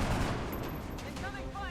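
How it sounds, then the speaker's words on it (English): Bursts of rapid gunfire in the XCOM turn-based strategy game during an Exalt mission, quiet and brief with a slightly crackling texture, and a voice speaking faintly near the end. "Incoming fire!"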